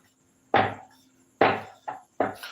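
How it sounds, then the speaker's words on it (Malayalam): Four sharp chopping knocks of a knife cutting through rolled-out poori dough on a board, irregularly spaced and close, each with a brief ringing decay, no voices. "പരത്തിയതിനു ശേഷം നമ്മൾ കട്ട് ചെയ്യും"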